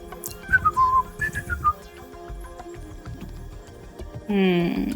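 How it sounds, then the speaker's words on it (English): Whistling in a tabletop fantasy game session: two short melodic whistled phrases rise and fall near the start, mixed with speech, then a brighter sustained tone near the end. "when a tree whistles back at him"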